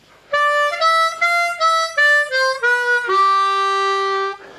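A harmonica plays a short melodic phrase of several reedy notes that step downward, ending on a long, held low note that fades out.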